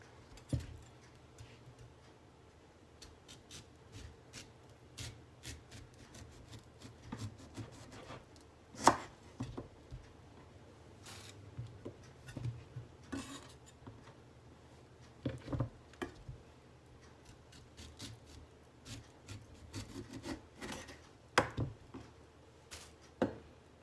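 A knife cuts the core out of a pineapple, making a run of irregular close chopping taps and soft thuds against the board, some louder, with no voices.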